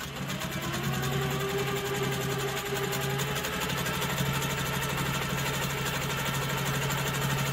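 A Handi Quilter Amara ST quilting machine stitches continuously, a steady close mechanical hum with rapid needle knocking, no voices.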